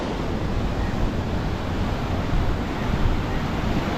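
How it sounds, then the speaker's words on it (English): Ocean surf rolls onto the beach at Galle Face in Colombo, Sri Lanka, a constant loud wash of breaking waves mixed with wind buffeting the microphone. "Beautiful waves though, eh?"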